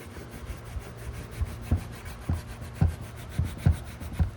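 Rubbing alcohol rubbed by hand over leftover adhesive residue on a car's rear bumper, a soft repeated scrubbing with rhythmic strokes that grow slightly louder and sharper toward the end, close up with no talking.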